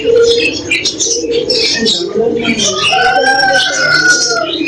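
Pigeons coo close by amid other chirping birds, soft throaty calls overlapping with brighter tweets throughout.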